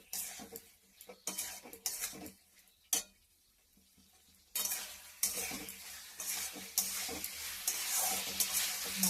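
Fried teasel gourd pieces are stir-fried in a pan for a spiced dish with potatoes. A spatula clicks and scrapes against the metal, then a loud, dense sizzle swells and holds through the second half.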